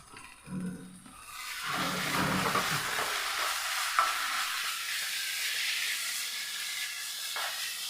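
A mango and coconut mixture with salt is stirred in a hot pan. A soft scraping opens the sound, then a continuous sizzling hiss of frying and steam runs throughout at low volume.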